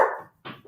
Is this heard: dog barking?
yes